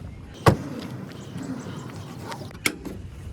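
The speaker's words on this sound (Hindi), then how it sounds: "यहाँ पे हमें मिलता है इसका liver to unlock the engine पे" A Honda City with a 1500 cc engine, its hood release lever pulled inside the car, giving two sharp mechanical clunks about two seconds apart. Faint low voices sit in the background.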